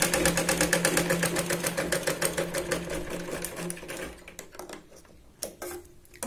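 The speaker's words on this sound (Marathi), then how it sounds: "टक्सला पण आपण इथे डबल शिलाई लावतोय" A sewing machine runs a double line of stitching on the tucks of a Katori blouse, rapid rhythmic needle clatter close up, slowing and stopping near the end with a few final clicks.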